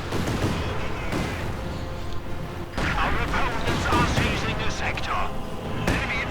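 Panzerwerfer rocket artillery firing in a real-time strategy war game, a dense rumbling barrage of launches and explosions layered with other battle gunfire, loud and continuous under a commentator's talk.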